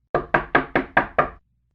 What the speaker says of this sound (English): there was a knock on the cabin door.